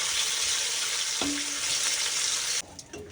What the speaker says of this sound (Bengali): চলো মাছটা আগে ভেজে নিই